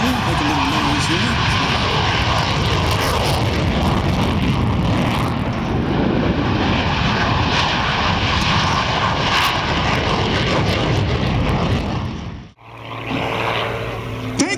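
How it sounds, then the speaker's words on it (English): Loud, continuous roar of a Viper jet on its takeoff roll at an air show, the engine noise filling the clip before a sudden cutoff near the end, then quieter background. "As the Viper on the takeoff roll, make a little noise here."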